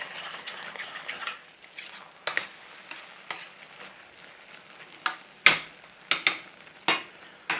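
Apples cooking down into a soft mush in a pan for a mashed-potato pastry apple cake, stirred with a utensil that gives sharp, irregular scrapes and clinks against the pan over a soft sizzle.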